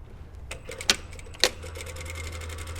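Sewing machine topstitching a patch pocket, heard as a steady, fairly quiet mechanical run with a few sharper clicks near the start, close by and with no talking.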